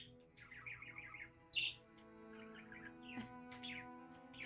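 A pet budgie chirps in a quiet room, giving short bursts of soft tweets and one sharper squawk-like call, close by and moderately faint against a steady low background hum.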